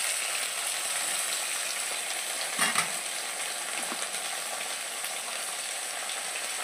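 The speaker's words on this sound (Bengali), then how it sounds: "এইটা ভালো করে আমি বাদামি করে ভেজে নেব।" Prawns, chopped tomatoes and spices fry in a pan with a dense, even hiss that holds steady throughout, with a brief clatter of stirring near the middle.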